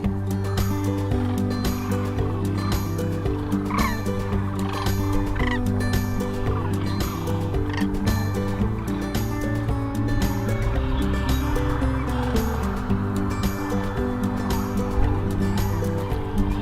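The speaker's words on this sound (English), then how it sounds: "it quickly became clear the cranes had returned" A large flock of sandhill cranes calls at Rowe Sanctuary on the Platte River in central Nebraska, dense overlapping rattling, bugling cries that carry on continuously, near and far together.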